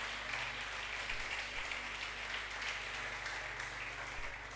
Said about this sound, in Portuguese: Dá-lhe uma ofrenda de aplauso